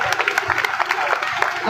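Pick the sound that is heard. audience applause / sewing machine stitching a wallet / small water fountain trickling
audience applause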